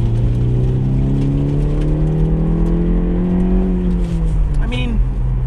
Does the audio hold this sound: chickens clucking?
no